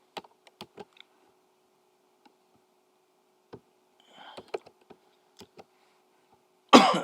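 Scattered keystrokes on a computer keyboard as an SQL insert command is typed, sparse separate taps with pauses between them and a brief louder burst at the end, with no talking.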